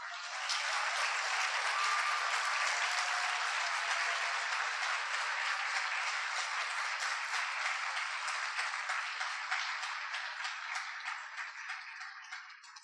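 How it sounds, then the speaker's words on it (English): A graduation audience applauds steadily in a hall, a dense, sustained wash of clapping that holds for many seconds before slowly tapering off, heard at a moderate distance with no talk over it. "Can I ask you to put your hands together and congratulate"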